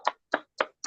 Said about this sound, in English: with a sounding round of applause, welcome our Toastmaster of the day